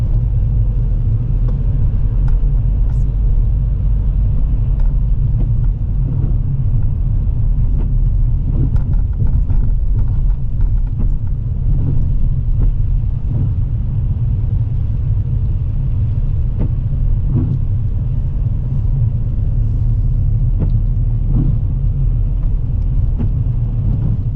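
A car driving at a steady pace through a high street, heard from inside as a loud, continuous low engine and road rumble with faint scattered ticks and knocks.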